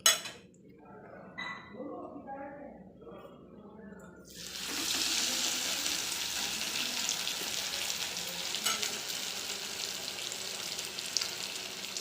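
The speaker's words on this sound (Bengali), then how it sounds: "এক এক করে আমি এইভাবে সব ভেজে নেব" Bread patties stuffed with paneer and potato fry in hot oil. A person talks over quieter kitchen sounds at first, then a loud, steady close sizzle takes over and continues to the end.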